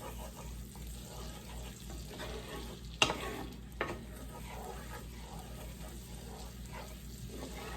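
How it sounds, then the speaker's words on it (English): Onions cooking in butter for a chicken pot pie give a steady, soft sizzle with spoon stirring throughout, plus a sharp utensil clink near the middle and a smaller knock shortly after. "let those onions cook a little in the butter"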